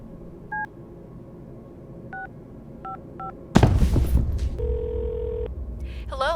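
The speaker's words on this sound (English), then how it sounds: "Hang up the phone and call 911." Telephone keypad tones beep as someone dials 911: several short separated beeps, a sudden burst of noise, then a sustained tone and further electronic sounds, fairly close and clear.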